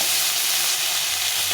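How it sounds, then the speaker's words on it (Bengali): Tomato fries in a pan for a tengra fish curry with drumstick and bitter gourd, a steady bright sizzle and hiss close by, unbroken through the short moment. "এখন আমি এর মধ্যে টমেটোটা দিয়ে দেবো, দিয়ে একটু ভালো করে ভেজে নিতে হবে।"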